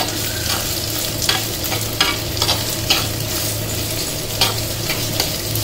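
Onions sauté in a pan for pepper mutton curry, sizzling steadily up close while a utensil scrapes and clinks against the pan at regular intervals.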